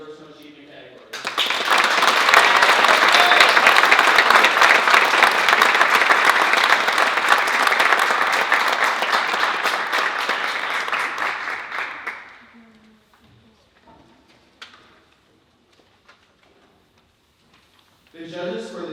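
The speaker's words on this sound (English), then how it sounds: "Please join me in applauding George Wright for being nominated in the Personal Achievement category." A youth awards audience applauds a nominee for personal achievement, a sudden dense burst of clapping that holds loud for about ten seconds, then tapers to quiet, with faint speech returning near the end.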